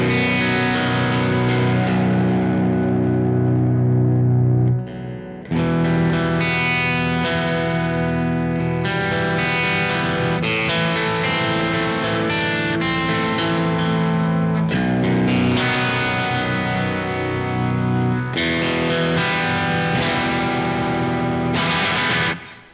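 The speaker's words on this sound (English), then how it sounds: "So that is the bridge pickup." A Squier Paranormal Baritone Cabronita Telecaster on the bridge pickup plays chords and low riffs with a deep tone and a bright, slightly distorted edge, continuous and up front with no talking.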